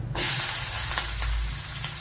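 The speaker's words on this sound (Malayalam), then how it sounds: "ഇത് ലൈറ്റായിട്ടൊന്ന് വഴട്ടാം" Sliced shallots and green chillies sauté in hot oil, a loud steady sizzle that bursts in at the start and continues with a few soft stirring knocks.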